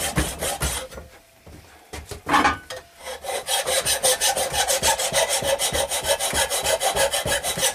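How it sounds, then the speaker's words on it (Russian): Flat hand file rasping along a knife blade for a Yakut-style knife, steady rhythmic back-and-forth strokes, close and moderately loud, with a short pause before the strokes speed up into a quick even cadence. "Взять плоский напильник. Плоский напильник обыкновенный."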